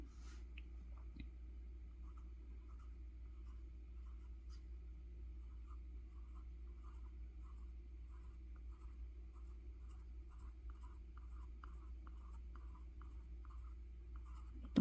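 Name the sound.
pen drawing on paper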